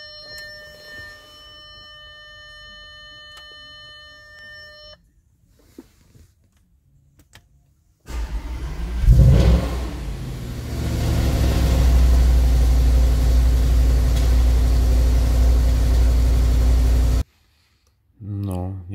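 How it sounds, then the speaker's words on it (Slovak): An Audi RS5 engine cold-starts and settles into a loud, steady low idle, preceded by quiet electronic beeps and clicks. Near the start a brief burst of cranking is heard. "Takže toto bol štart studený prvý."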